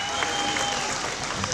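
A large crowd at a gospel concert applauds a singer, a continuous dense roar of clapping that stays even and loud from start to finish.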